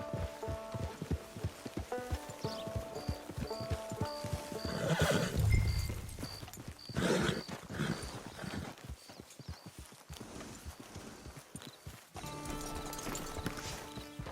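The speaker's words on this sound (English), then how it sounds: "Get your horse." Horse hooves clip-clop with a whinny and snorting in the Western open-world game Red Dead Redemption 2, near and steady amid ambient game sounds and music tones.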